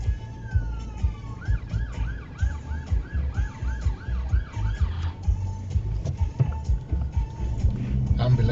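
A paramedic car's wailing emergency siren sweeps up and down repeatedly amid road traffic noise, then shifts pattern before fading under passing vehicles.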